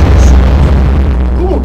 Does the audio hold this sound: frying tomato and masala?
no